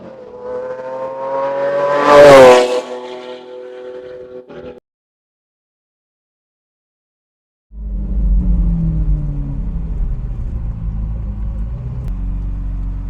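Lamborghini Aventador engine on the road, a loud revving rise that peaks and cuts off, then after a silent gap a deep steady rumble resumes.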